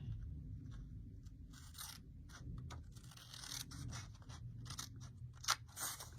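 Scissors snip through paper to cut an envelope from vintage Paris ephemera, a quiet, close series of crisp cutting crunches and short scrapes in an irregular rhythm.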